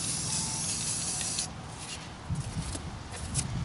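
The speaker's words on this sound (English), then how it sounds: "And as you can see, all the spray is going in here and not blowing all over the place." Primer spray painting from a spray can held about six inches from the surface: a loud, steady hiss for roughly a second and a half, then quieter intermittent spraying with light rubbing and handling noises.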